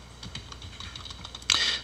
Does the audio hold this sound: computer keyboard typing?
yes